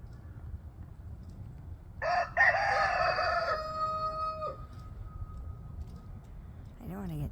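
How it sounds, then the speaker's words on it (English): Roosters crowing in turn outdoors, one long cock-a-doodle-doo clearly heard over steady background noise, with another crow starting near the end. "like a crowing competition between my roosters"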